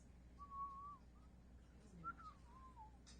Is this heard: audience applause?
no